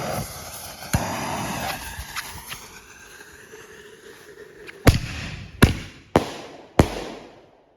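Consumer fireworks from a large Super Fireworks assortment go off outdoors, starting with crackling and pops and ending with four sharp, loud bangs spaced about a second apart.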